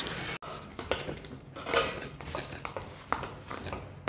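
A spoon presses and spreads hot roasted chana chikki mixture, producing scattered scraping, tapping and clinking against a pan or plate, fairly quiet and irregular.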